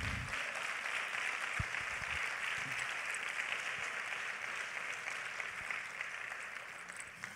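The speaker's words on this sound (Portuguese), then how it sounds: "Dê um aplauso ao Senhor" A church congregation gives steady, dense applause for the full stretch, heard at a moderate distance as an even wash of clapping with a few low thumps near the start.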